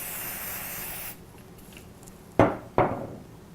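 Two short bursts of aerosol hairspray, close and loud, each a sharp hiss that quickly fades, following a steady broadband hiss that cuts off.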